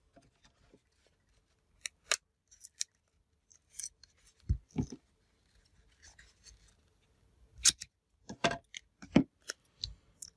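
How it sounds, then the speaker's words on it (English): Scissors trimming paper pieces for a handmade St. Patrick's Day card, sharp close snips in short irregular bursts separated by quiet pauses, with faint rustling of paper between cuts. "I'm going to trim."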